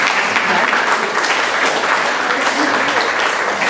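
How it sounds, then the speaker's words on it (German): A stage audience applauds, dense continuous clapping at steady loudness for several seconds, filling the room without pause. "Ja, da können wir jetzt mal klatschen."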